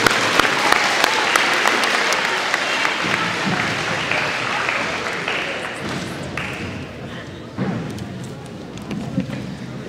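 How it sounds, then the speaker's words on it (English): A school auditorium audience at a seventh-grade academic awards ceremony gives a long, loud round of applause, dense clapping that runs the full length and thins slightly toward the end, with a few voices mixed in. "one more big round of applause for them"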